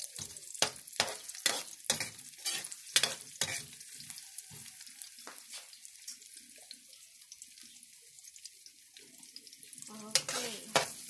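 Onion frying in a pan as it is stirred, a soft sizzle under a series of sharp scraping and clattering strokes of the utensil, busy at first, then a quieter stretch before a final burst.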